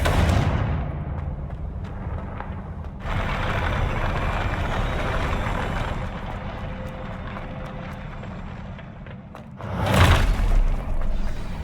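The Confringo blasting spell in Hogwarts Legacy booms loudly at the start, then a rumbling fiery roar lingers before a second heavy blast near the end.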